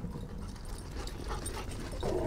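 Dogs playing give off soft whimpers and quick panting, with light movement noise. The sounds are close and fairly quiet throughout, and a slightly louder yelp comes near the end.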